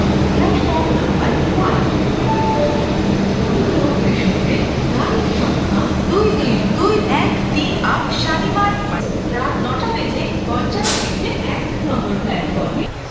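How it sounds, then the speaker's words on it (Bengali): A passenger train pulls out of Shalimar station with a steady low rumble and rattling carriages, and a voice talks over the noise near the end. "এই শালিমার ছেড়ে বেরিয়ে যাচ্ছি"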